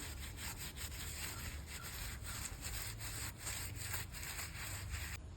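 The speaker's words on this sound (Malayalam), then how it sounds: "ഈ അഴുക്കുള്ള ഈ ഏരിയാസൊക്കെ ഉണ്ടല്ലോ അവിടെയൊക്കെ നല്ല പോലെ അങ്ങോട്ട് സ്ക്രബ് ചെയ്ത് കൊടുക്കാം" A tea glass being scrubbed with a green scrubber pad and toothpaste, giving a steady close-up rasping rub with quick repeated back-and-forth strokes throughout, no voices.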